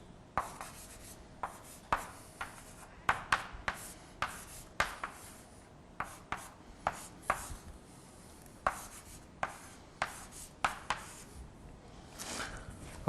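Handwriting on a surface while working through heat exchanger calculations, a series of quick, irregular pen or marker strokes with short pauses between bursts, close and fairly quiet, with no voices.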